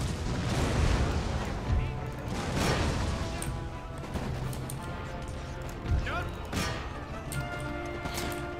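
Musket volleys crackle and thud through a castle battle in Empire: Total War, with repeated muffled bursts layered over a continuous battle din.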